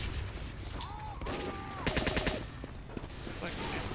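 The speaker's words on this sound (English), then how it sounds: "It's a paintball gun, I think." Rapid bursts of paintball gun fire from Team Fortress 2 gameplay, a fast string of sharp pops around the middle, mixed with other game effects and background noise, with a voice heard briefly.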